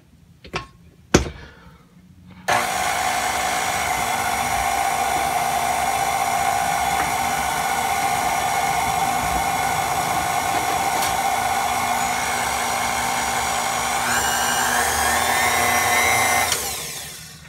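An electric stand mixer runs steadily, beating red velvet cake batter as the remaining flour goes in. A loud, even whine holds for about fourteen seconds after a couple of clicks at the start, and the pitch shifts briefly before it stops.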